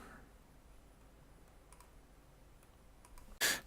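A computer mouse clicks while an image is scaled in a drawing program: a few soft, sparse clicks over a quiet room hum, ending in a sudden louder burst of noise.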